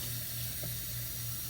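Water pours steadily into a folding washing machine, a continuous rushing stream under a low steady hum with no talking.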